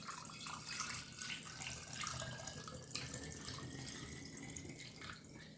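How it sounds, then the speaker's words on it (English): Water is poured through a funnel into a glass ball jar, a steady trickling and splashing stream running close and continuous for several seconds, with no talk over it. "So we're going to pour the water, the 3 cups of water, into our ball jar here."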